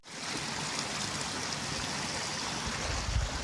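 A river running after recent rain gives off a steady, broad rushing wash, fairly close and continuous, with no voices.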